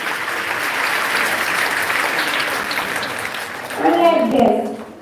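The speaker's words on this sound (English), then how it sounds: "Clap for the senior most Lord's Prefect." A crowd claps at a school welcome gathering, a steady wash of many hands that swells near the end as a voice begins speaking over it.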